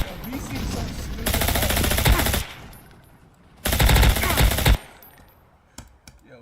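Automatic gunfire from a shooter video game, two loud sustained bursts of rapid shots, each lasting about a second, separated by a quieter gap.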